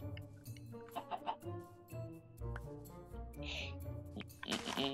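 A chicken in Minecraft on Xbox clucks in short, separated bursts at moderate volume, with scattered game noises around it.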